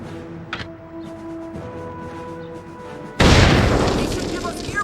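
A grenade blast in the Xbox combat game Full Spectrum Warrior hits suddenly and loudly after a stretch of quieter battlefield ambience with faint voices. A broad rumbling roar follows and slowly trails off.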